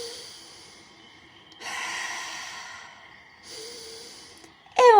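Deep, close breathing during a Pilates exercise, with two long airy breaths separated by quiet pauses, and a voice cutting in right at the end.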